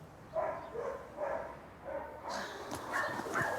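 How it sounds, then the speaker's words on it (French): Dogs barking and yipping at a SPA animal shelter in Dijon, several moderate barks in an irregular rhythm at mid distance, with a few sharper higher yelps toward the end. "les aboiements, ça réveille tout de suite"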